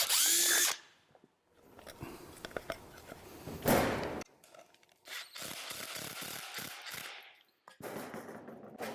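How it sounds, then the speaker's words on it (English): A power drill enlarges a screw hole in a metal hospital plate for a horse's hoof, with several short, loud whirring and grinding bursts broken by pauses and clanks of handling. "So now I'll go ahead and enlarge my hole in my hospital plate for the screw."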